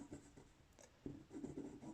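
Pencil lead scratching a line across paper on a drawing board, pressed hard so the board creaks; a series of close, quiet, rough strokes in an uneven rhythm, heard alone.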